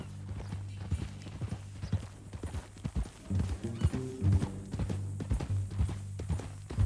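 Horse hooves clip-clop at a steady walking rhythm in Red Dead Redemption 2, close and clear, with a horse whinnying partway through.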